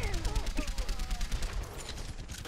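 Rapid gunfire with heavy recoil in Overwatch, fairly quiet, with fast repeated shots in a steady stream and a voice speaking over them.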